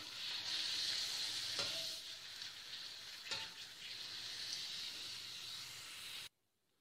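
Hot oil heated for frying homemade potato chips sizzles with a bright, steady hiss close by, broken by a couple of sharper crackling bursts before cutting off abruptly into silence.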